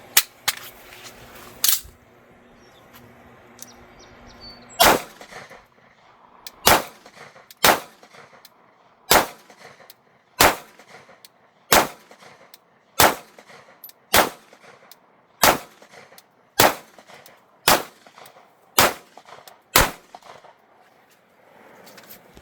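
A Sig P228 pistol fires at a shooting range, a short burst at the start and then a steady string of sharp, loud single shots about a second apart, each ringing briefly.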